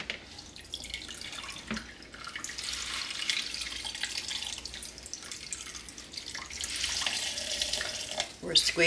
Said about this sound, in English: And then we're going to strain it again.